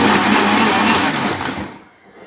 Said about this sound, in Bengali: আমটাকে এখন আমরা ব্লেন্ডার করে নিচ্ছি।